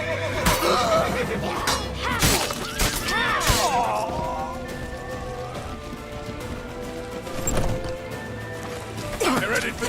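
A horse neighs in the Witcher 3 video game, loud whinnies that rise and fall against a busy background of crashes and commotion, while characters shout over the action.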